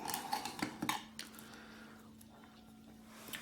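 Knife working through soft, sticky Willoughby cheese on a plate, a few quiet clinks and soft scrapes of blade against plate early on, then fading to near silence.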